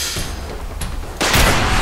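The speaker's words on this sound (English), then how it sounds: "I see the missile coming." Missile rocket explosion in Fallout 4 Far Harbor, a sharp, loud blast that erupts suddenly over ongoing gunfire-like rumble and sustains a heavy roar to the end.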